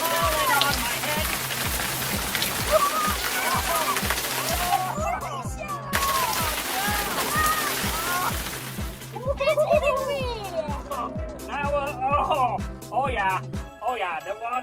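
Water pours down onto a person's head from a mystery button box toy, a loud hissing splash that cuts off briefly and returns, with excited voices talking and exclaiming over it.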